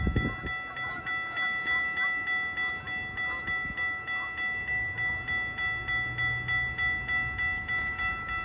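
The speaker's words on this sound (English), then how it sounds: "The GO train just went by" A GO commuter train rolls past with a steady rhythmic clatter of wheels over rail joints, a sustained whine overhead, and a brief louder burst at the start.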